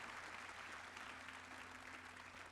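A snooker audience at a championship final applauds a shot with steady, even clapping, the ovation dense and sustained throughout.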